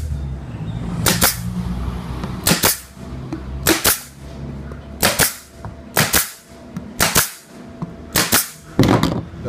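A nail gun fires seven sharp, loud shots at irregular intervals, fastening a cover panel onto a homemade circular saw table, with a low workshop hum underneath.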